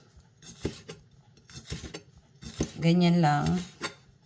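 A knife slices sweet paprika into strips for atsarang papaya, making a series of crisp cutting taps against a board. A voice speaks briefly near the end.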